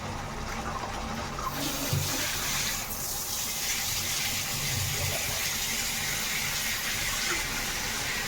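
Water pours steadily into a pot of Kashmiri chicken masala curry with potatoes, a continuous gushing splash heard alone without talk.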